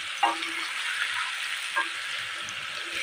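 Broiler chicken curry fries in a pan, a steady close sizzle with two clear scraping clinks from a spoon stirring, otherwise a smooth hiss and no talking.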